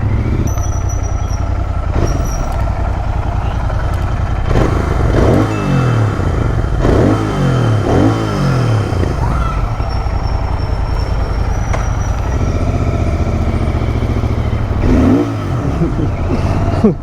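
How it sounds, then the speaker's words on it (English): Royal Enfield Interceptor 650 motorcycle revving repeatedly while stopped by the roadside, its exhaust note rising and falling in several sharp throttle blips over a steady idle, close and loud. "So that was the exhaust note."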